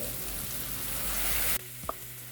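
Onion, green chilli and tomato paste fry in a pan for a dhaba-style palak paneer, a loud steady sizzle that abruptly drops off midway, followed by a soft clink and quieter background hum.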